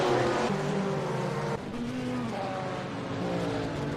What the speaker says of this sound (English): I'm going to turn the cars down a little bit, because holy, they are loud.